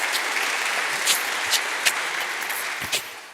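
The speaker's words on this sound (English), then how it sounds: "I think that's an applause as much for what you said as for Christopher Hitchens himself" Loud, sustained applause fills the hall at a live Richard Dawkins event on religion and Christopher Hitchens, a dense crowd of clapping hands with a few sharper individual claps popping out near the end.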